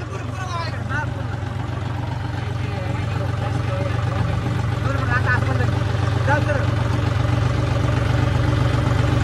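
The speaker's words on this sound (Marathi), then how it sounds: "हे बघा इथं वळवायचं ट्रॅक्टर" A steady, loud tractor engine rumble runs throughout as the tractor turns, with people talking over it.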